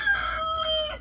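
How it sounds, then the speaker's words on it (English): A rooster crows once, loud and near, its shrill call rising and then trailing off into a long, drawn-out note. "Noisy roosters."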